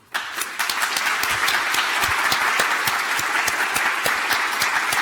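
A JuliaCon 2019 conference audience applauds the sponsors, with steady, dense clapping from a large indoor crowd that swells in quickly and holds at an even volume.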